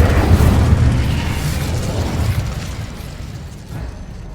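Incendio fire spell from Hogwarts Legacy, a deep booming burst that swells loud at once and then rumbles and slowly fades over several seconds, with no talk.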